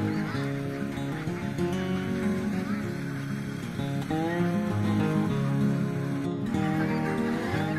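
Ducks honk and quack loudly and repeatedly at close range on a rice field as they crowd around for feed, a busy overlapping chorus of nasal calls.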